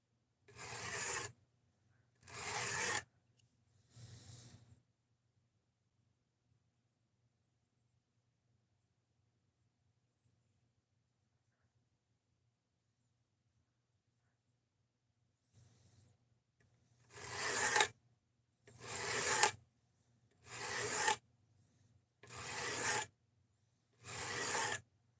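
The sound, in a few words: sharpening a knife on a 200 grit diamond stone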